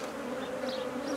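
Honeybees drone in a steady, close buzz from an open hive during an inspection, a continuous hum with no break across the short moment.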